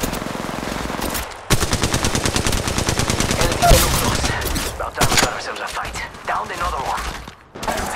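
Rapid automatic gunfire from Apex Legends Mobile ranked play, loud sustained bursts of shots with brief pauses between them, mixed with game sound effects.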